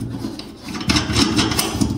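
A bathtub leveling foot screw is turned and tightened, producing a close, gritty rasping and rubbing over two seconds that grows louder partway through.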